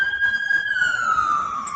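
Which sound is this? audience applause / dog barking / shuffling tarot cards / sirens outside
sirens outside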